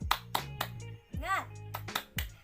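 A 'tepuk semangat' cheer clapping chant in an early childhood lesson: a series of sharp, evenly rhythmic hand claps close by, interleaved with a voice chanting along between the beats.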